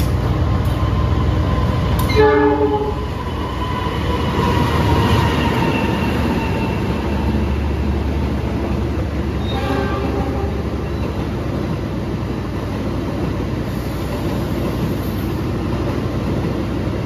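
The Argo Dwipangga express train rumbles steadily through Kroya station, Indonesia, at close range with a continuous low roar, wheels clacking in brief bursts as it runs through without stopping.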